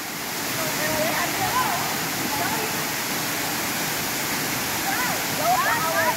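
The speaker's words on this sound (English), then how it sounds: "I'm gonna go check out that waterfall over there" A waterfall on Nosy Be, Madagascar, rushes in a steady, loud, close roar of falling water, with faint voices and calls barely rising above it.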